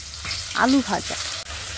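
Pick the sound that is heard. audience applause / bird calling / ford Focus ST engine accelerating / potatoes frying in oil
potatoes frying in oil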